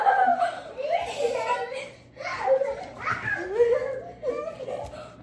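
Two young children playing noisily indoors, chattering, squealing and giggling in quick overlapping bursts close by, with laughter breaking out throughout.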